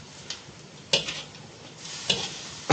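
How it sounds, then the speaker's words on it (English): Ingredients for a Javanese urap salad frying dry in a hot wok: a low steady sizzle broken by a few sharp clanks of the utensil against the pan. "you just continue to fry them up"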